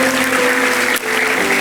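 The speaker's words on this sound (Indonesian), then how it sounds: "boleh kasih tepuk tangan dulu yang luar biasa" Applause from a church youth service audience, a dense continuous wash of clapping filling the room, loud and steady with a brief dip near the middle.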